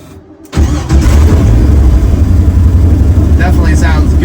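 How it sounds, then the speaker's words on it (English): A Ford Ranger V8 engine starts after a brief quiet moment, then settles into a loud, steady, low rumble close by, with some voices audible under the engine. "That nice V8 rumble to it"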